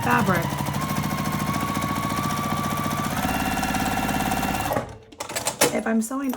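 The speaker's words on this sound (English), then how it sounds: "sometimes I switch to a walking foot if I'm sewing on a vinyl" Sewing machine stitching vinyl with a rapid, steady mechanical chatter and a whirring tone, loud and close for nearly five seconds, then stopping into scattered handling noises.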